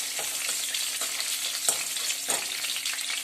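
Tomato pulp scraped from whole tomatoes sizzles steadily in a frying pan as it is stirred in, with soft scraping strokes recurring every half second or so over a continuous hiss.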